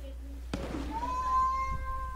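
A single sharp gunshot crack from the video game DayZ rings out during PvP, followed by a sustained tone, with game ambience and faint voices around it.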